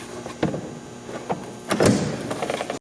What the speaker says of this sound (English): Remove the door panel by pulling up on it.